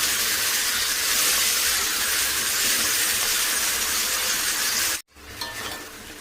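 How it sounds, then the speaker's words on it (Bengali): Capsicum and tomato fry with whole garam masala, a loud continuous sizzle and hiss that cuts off abruptly near the end, followed by quieter frying. "গরম মশলা ফোড়ন দিয়ে ক্যাপসিকাম আর টমেটোটা একটুখানি ভাজা ভাজা করে নিচ্ছি।"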